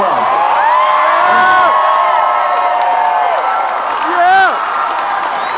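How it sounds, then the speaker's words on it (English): Large political rally crowd in Austin, Texas cheering, whooping and applauding loudly and steadily, with shouts and whistles rising above the roar and voices calling out throughout. "I have not seen a crowd like this."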